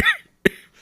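A single short cough from a man sounds close and dry, followed by a brief sharp throat-clearing burst, then quiet.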